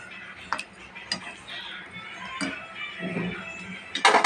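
Hilsa fish being stirred in a cooking pot: a few sharp utensil clinks against metal spread across the moment, with softer scraping between them and a louder clatter at the end, close by.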